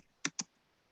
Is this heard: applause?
no